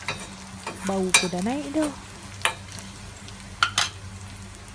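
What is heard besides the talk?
onions frying and being stirred in a pan for dhal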